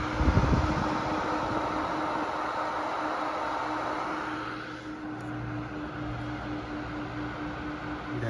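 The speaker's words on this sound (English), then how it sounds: "you can also hear the fans spinning a lot harder" Laptop cooler fans spin hard with a steady, loud whirring hum and a faint tonal drone, continuous throughout and heard alone.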